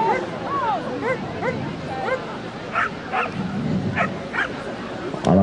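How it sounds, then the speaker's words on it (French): A dog yips and whimpers nearby in a run of high, whiny calls and short bow-wow barks, while a person talks over it. "Attention, là, il y a le chien qui déménage."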